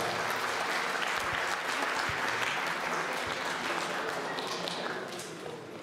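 Dense, steady audience applause fills a quiz segment after a correct answer, many hands clapping continuously at an even level before easing slightly near the end.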